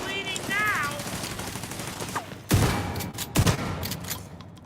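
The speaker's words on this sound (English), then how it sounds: "Riddled him with the bullets" Gunfire in The Division 2, with sharp, loud bursts of rapid shots in two clusters after quieter game effects and a voice.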